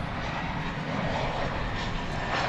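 An airliner taking off at DFW, flight 1659 to Phoenix, gives a brief, steady engine roar, fairly loud and unbroken, with no voices.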